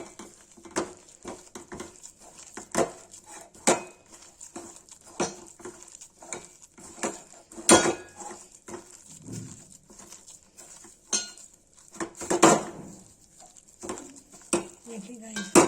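Rice flour dry-roasting in a pan over a gas flame while a utensil stirs it, giving uneven scrapes and sharp metallic clinks against the pan with quiet gaps between strokes.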